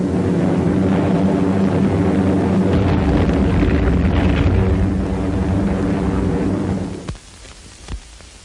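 U.S. Marine bomber engines roar heavily in old wartime newsreel sound, a dense, rumbling drone that holds for about seven seconds before it drops off sharply into quieter, crackly noise.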